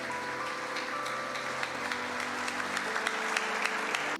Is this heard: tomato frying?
no